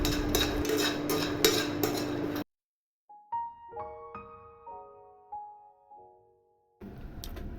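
Peanuts dry-fry in a pan with a busy rattling scrape for about two seconds, then a short run of chiming musical notes plays before the clattering noise returns.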